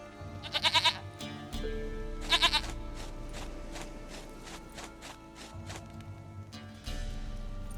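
Goat bleats from The Witcher 3 come in two short, bright bursts, followed by a low shuffle and thumps, with a fainter bleat near the end, all over quiet in-game ambience.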